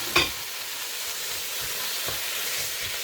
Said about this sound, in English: We are ready to fry our meat.